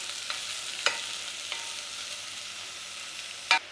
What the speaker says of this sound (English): So just give it a little stir fry on your onions and garlic.